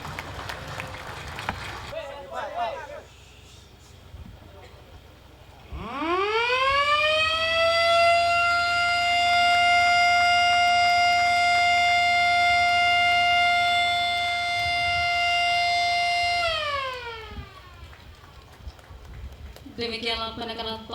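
A siren marks the groundbreaking of 250 MW mobile power plants across Sumatera, Indonesia, started by the President at the push of a button. It rises in pitch, holds a loud steady wail for about ten seconds, then slides down and fades, with crowd noise before and after.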